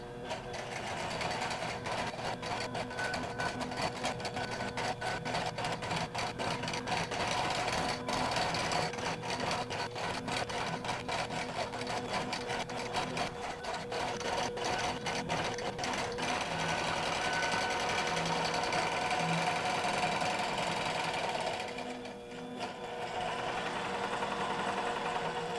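A QBOT V3 computerized quilting machine stitches an overlay pattern on a quilt, a steady, rapid mechanical chatter of the needle running continuously at close range with a faint hum beneath.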